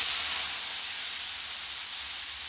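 Compari tomatoes hit a hot pan of cooking garlic, giving a steady, loud sizzling hiss that holds evenly throughout with no voices.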